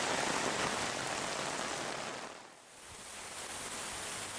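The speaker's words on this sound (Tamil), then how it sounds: "இடி மின்னலுடன் கூடிய கனமழை பெய்தது" Heavy rain pours down during a thunderstorm in Perambalur district. It makes a loud, dense, steady hiss that dips briefly midway, then resumes at full strength, with no voices.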